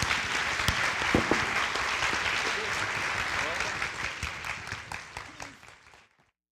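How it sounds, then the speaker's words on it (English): Audience applause at a community healing event with a panel, a dense, steady wash of clapping from a large crowd that holds for several seconds, then thins and dies away abruptly near the end. "just one more round of applause for all folks"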